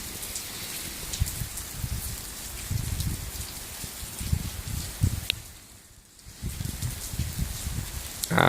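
Steady rain falls across the Florida Everglades, a dense close patter on leaves and surfaces that briefly thins before returning at full strength, with no voices.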